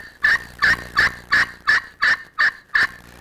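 Striker drawn in circles across a glass friction call yields eight regular turkey yelps, close and clear, each raspy note separated by a short gap.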